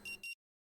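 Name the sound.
beeping in video game Rue Valley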